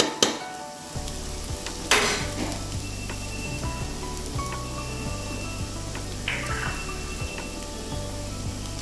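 Chopped onions sizzle steadily in hot oil in a pan for veg biryani as spice powders are tipped in, with bursts of louder crackle and occasional stirring scrapes, close and continuous.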